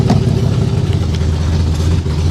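A Ford Granada's engine runs steadily at a low, mid-pitched drone as the car drives off, a constant close rumble with light clatter and no talk.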